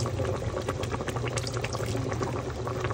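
Soy sauce poured into a pot of boiling stew, a steady close stream of liquid over constant bubbling and sizzling, with no one talking.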